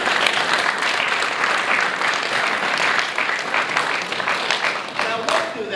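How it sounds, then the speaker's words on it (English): Sustained applause from an audience at a presentation event for Carver Stadium, dense and steady throughout, with voices rising under the clapping near the end. "Give them all a big round of applause."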